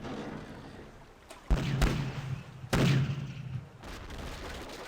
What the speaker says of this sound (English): We'll wait for our guns to reload here.